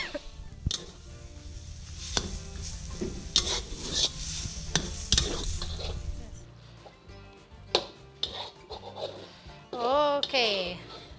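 Fatty pork with crispy bits goes into a pan and sizzles close up, with scraping and stirring scuffs from a utensil and bursts of crackle throughout. A person speaks over the cooking.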